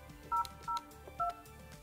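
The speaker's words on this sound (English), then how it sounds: "Dial the person that you want to transfer the call to and hit transfer." Four short DTMF keypad tones sound as a number is dialed on a Yealink desk phone, each a brief, clear dual-pitch beep with small gaps between.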